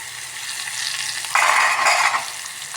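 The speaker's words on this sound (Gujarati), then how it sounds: "પછી આ મેં સૂકા આખા લાલ મરચાં આવે છે એ, લીલું મરચું અને ડુંગળી એટલું લીધું છે વઘાર કરવામાં." Whole dried red chillies, green chilli and onion temper in hot oil, crackling steadily before a sudden, louder sizzle that swells for a moment and then eases.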